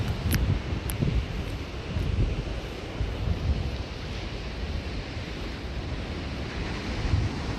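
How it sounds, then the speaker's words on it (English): Steady wind buffets the microphone on the Moonstone Beach boardwalk by the ocean, a constant rushing roar with low gusty rumble and surf-like hiss, with no voices. "since it is a bit windy, I will take this bag with me to prevent it from going into the ocean."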